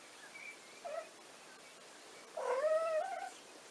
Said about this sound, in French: Et un autre chat qui vient observer également les chatons.